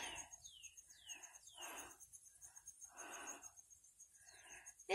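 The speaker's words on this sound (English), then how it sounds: "just sitting here listening to the birds chirping." Birds chirp nearby in a flower garden in quick, separate calls, some of them sharp, falling whistles, with short quiet gaps between them over a faint background.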